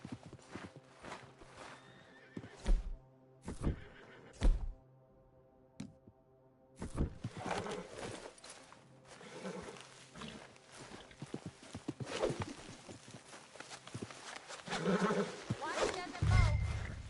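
A horse in Red Dead Redemption 2 whinnies loudly and clops its hooves in bursts, with a roaring animal cry, game music and a voice talking over parts of the scene.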